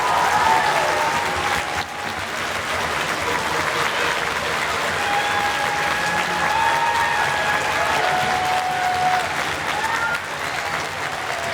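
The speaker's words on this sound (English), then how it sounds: "give them a thunderous round of applause on an incredible career" A concert audience at a school band festival applauds graduating band members, a long, loud, sustained wave of clapping from a large crowd with a few whistles cutting through.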